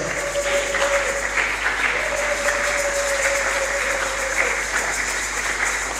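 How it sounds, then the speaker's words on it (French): A church congregation claps at a thanksgiving memorial service, sustained applause filling the room at an even level, with a faint tone and murmurs underneath. "Nous acclamons les seigneurs pour leur présence"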